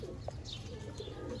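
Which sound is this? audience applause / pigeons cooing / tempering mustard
pigeons cooing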